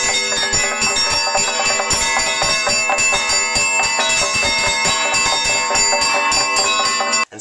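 Bells ringing in celebration at a Romanian monastery, struck in a fast rhythmic peal with bright overlapping tones and percussive knocks of a wooden talantan, loud and continuous with no talking.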